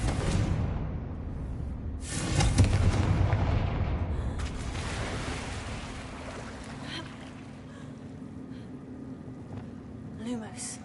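A fiery Confringo blasting spell cast in the Hogwarts Legacy video game goes off as a loud booming burst, then rolls away into a long, fading rumble over the game's background ambience.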